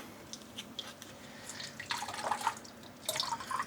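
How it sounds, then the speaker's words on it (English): Dyed yarn rinsed in a tub of water, soft intermittent splashes, sloshes and drips close by, rising in short bursts as the wet yarn is moved and lifted. "I have been rinsing all the yarn in the same tub without changing the water."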